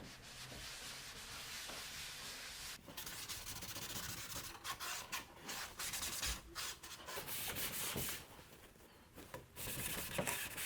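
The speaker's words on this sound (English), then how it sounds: "I'm going to wipe everything down once with this tack cloth" A tack cloth rubs over a wood dresser being prepped for sealer, giving a steady close scuffing and wiping with brief pauses between strokes.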